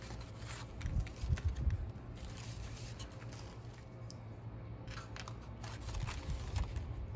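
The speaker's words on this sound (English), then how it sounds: "cut our paper plates in half" Quiet snipping of scissors cutting paper plates in half, a few bursts of crisp cuts with short pauses between, close up in a calm room.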